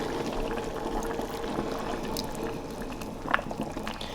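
Cornstarch slurry is poured into Hawaiian-style rib sauce in an Instant Pot, giving a soft continuous liquid pour and bubbling close by, with one small splash near the end and no voices.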